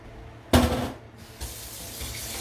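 Tap water gushes from a kitchen faucet to rinse out an emptied can, a short loud burst of running water followed by a second softer splash, close up with no talking.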